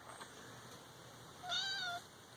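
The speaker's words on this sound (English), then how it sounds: "there's the barn cat" A barn cat lets out a single drawn-out meow, faint and alone over steady background hiss.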